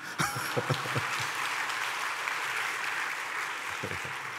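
Church congregation applause during a sermon, a dense, even wash of clapping from a crowd, moderately distant, with a few sharper claps near the start and end.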